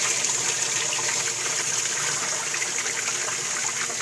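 Water trickles steadily into a Cetus Sieve open drain during a test, a continuous hissing stream with no break, close and even in level.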